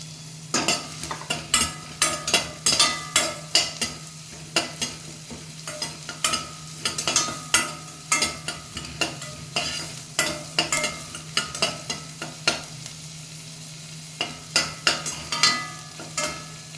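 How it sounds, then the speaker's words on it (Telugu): Shallots, green chilies and pepper powder fry in a pan for sweet corn soup. Sizzling runs throughout, broken by frequent sharp scrapes and clacks of a stirring spoon against the pan in an uneven rhythm, close by and with no talk. "తర్వాత చిన్నపాయ వేస్తున్నాను తర్వాత పచ్చిమిరియాలు ఒకటి రెండు చాలండి తర్వాత మిరియాలు పొడి వేసుకుంటాం కదా కొంచెం వేగినాక"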